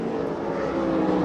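NASCAR stock cars roar through the tri-oval into turn one at the 1988 Goodyear 500 in the Thunderdome, a steady, loud engine drone holding through the short stretch.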